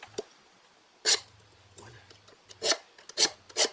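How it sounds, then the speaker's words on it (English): A hand file is drawn along a blade edge to sharpen and smooth it, giving four distinct rasping strokes spaced irregularly, close and fairly loud, with a faint low hum between them. "it's straightening out that, smoothing out that blade edge"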